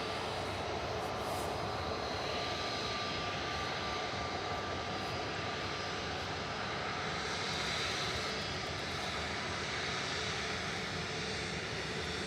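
An airplane taxiing at Manchester Airport gives a steady, broad engine roar with a faint whine, holding at an even level throughout with no voices.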